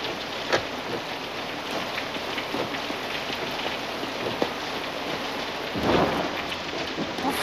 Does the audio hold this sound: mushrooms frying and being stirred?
no